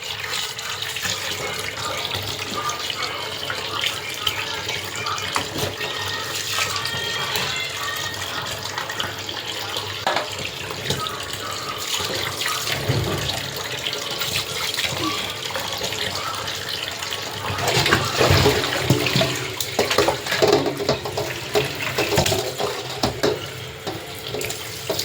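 Tap water runs steadily into a sink while fish, tilapia, are being washed, a continuous splashing stream that grows louder and more agitated partway through as the fish are handled.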